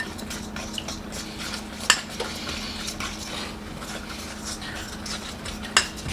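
Betty Crocker chocolate chip cookie dough being mixed with milk and butter in a bowl: soft scraping and stirring with a few sharp utensil clinks against the bowl, close and fairly quiet.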